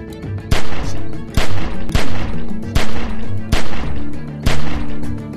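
Repeated loud gunshots ring out at a window in The Walking Dead game, about eight close, heavy blasts in a steady rhythm, each followed by a short echoing tail.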